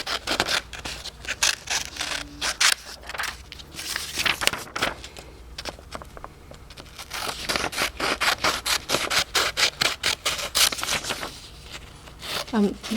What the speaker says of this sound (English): you then get a set of scissors and you're going to cut it out.